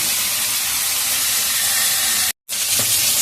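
Tangra fish frying in a pan of oil makes a strong, steady spitting hiss, loud and near, interrupted by one short gap, with no one speaking.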